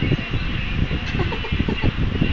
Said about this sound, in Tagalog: Yung ang mga ibon.